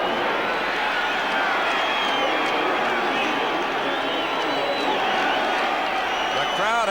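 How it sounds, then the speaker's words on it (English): Loud, sustained roar of a packed crowd cheering wildly at Texas Stadium during a 1980 Eagles–Cowboys NFL football game, a dense continuous wall of yelling and whoops that swells toward the end. "The crowd at Texas Stadium has gone absolutely wild"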